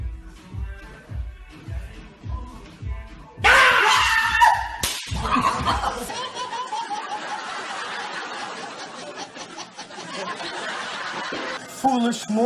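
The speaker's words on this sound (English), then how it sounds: "I just yelled for no reason" A person yells loudly in a brief dramatic outburst, with abrupt loud bursts mixed with laughter-like vocal sounds and other voices.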